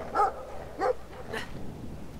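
A farm guard dog in the video game Brothers: A Tale of Two Sons gives three separate barks at a moderate distance over quiet background noise.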